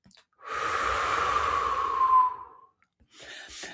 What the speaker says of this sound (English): One breath in through your nose, followed by a shorter second breath in, and then a long exhale through your mouth.